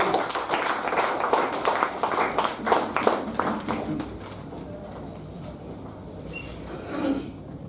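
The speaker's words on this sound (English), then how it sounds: "let's give a big round of applause for him" Audience at a Toastmasters club meeting applauds a speaker with a burst of brisk, overlapping claps that stays lively for a few seconds, then thins out and fades into quiet room tone.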